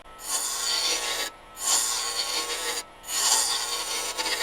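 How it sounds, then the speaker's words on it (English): A roughing gouge tapers scrap wood into a cone for a muddler on a lathe, producing three loud, close bursts of rasping cutting with short pauses between them. "we're going to just taper this down. We're going to kind of turn it into a cone. To do that, we just kind of go in with our roughing gouge."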